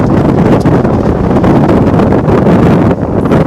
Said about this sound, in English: How strong was that wind gust? It just closed my computer screen.